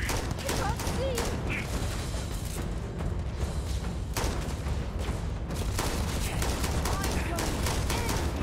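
Dense, continuous gunfire from the space shooter game Starfield, rapid bursts and sharp cracks filling the whole stretch, with voices mixed in beneath the steady din.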